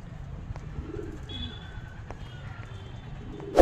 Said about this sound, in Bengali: একটা মাদা পায়রা আপনাদেরকে দেখাচ্ছি